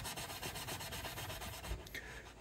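A guitar fingerboard on a Taylor neck is scrubbed with quick rhythmic back-and-forth rubbing strokes, close and steady, with no talking.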